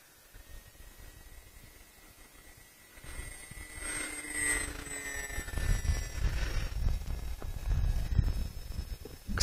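A radio-controlled Yak-3 model airplane circles overhead, its thin engine whine rising and shifting in pitch as it passes closer, then fading under steady wind and outdoor noise.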